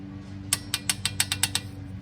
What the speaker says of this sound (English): we'll thread this in by hand, and then we'll torque it down